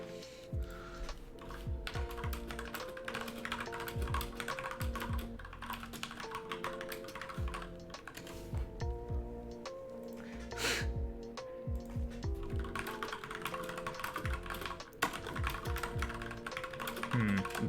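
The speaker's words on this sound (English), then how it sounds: "I'm sorry, I'm typing." Rapid typing on a computer keyboard, close and steady with dense clusters of key clicks and occasional heavier strokes, continuing throughout with faint background sound.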